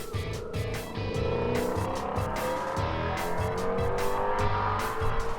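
A 2019 Ford Mustang Shelby GT350 is driven hard on a road, its engine droning loudly with rising and falling revs as gears change, alongside tire noise and a steady roar.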